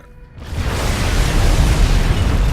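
A loud, sustained explosion erupts in a StarCraft II co-op mission, rushing in suddenly with a deep booming roar that stays dense and heavy to the end.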